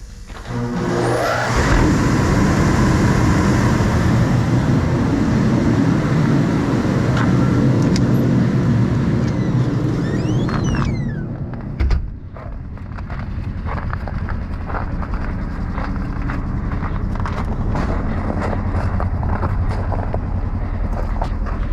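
A 170,000 BTU portable heater roars loudly with a steady, jet-like rush, then drops in level after a brief clunk and runs on with lighter rattling, close by in a farm setting with no talking.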